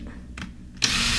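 A power drill whirs into steady motion near the end, boring holes in small junk journal pieces after a couple of brief quieter buzzes, close and fairly loud with no talking.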